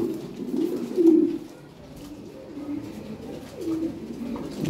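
Lahore pigeons coo in low, throaty bursts, a loud one near the start followed by softer repeated coos, close by and with no talk.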